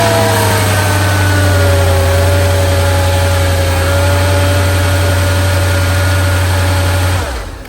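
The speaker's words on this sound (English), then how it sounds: "we're gonna start the car to see if we have any misfire" A Mercedes SL55 AMG with the supercharged M113k V8 runs at a steady, loud idle for about seven seconds after spark plug replacement, smooth and even with no misfire, then cuts off abruptly near the end.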